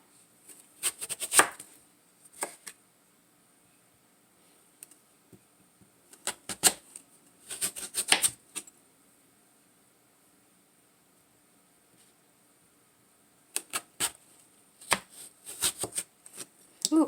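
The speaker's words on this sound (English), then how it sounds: "we'll just chop away at it" Knife chopping food on a cutting board for a short rib meal, in quick bursts of rapid close taps separated by quiet pauses, with no talking.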